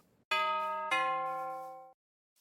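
A two-tone doorbell chime from the Minecraft video game, two bright bell strikes about half a second apart, the second ringing on and fading for about a second before cutting off, heard alone and fairly loud.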